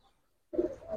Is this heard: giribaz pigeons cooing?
yes